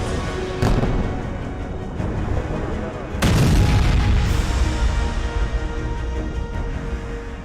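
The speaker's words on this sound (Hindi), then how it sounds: "इजरायली सेना का धमाका, उसके इस जबरदस्त हमले में हिजबुल्लाह का हथियारों और गोला बारूद से भरा गोदाम पूरी तरह से तबाह हो गया है।" Hezbollah weapons and ammunition depot in Beirut destroyed by an Israeli strike: two heavy booms a few seconds apart, followed by a sustained rumbling roar, with a voice over the top.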